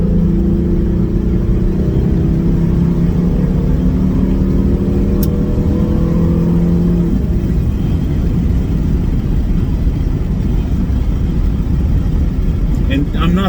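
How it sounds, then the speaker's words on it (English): A 1999–2004 New Edge Ford Mustang with the 3.8 V6 pulls hard in second gear on a road, its engine note rising steadily for about seven seconds before easing off into a lower, rougher drone, loud and close throughout. "Okay, I'll do a little second gear pull here."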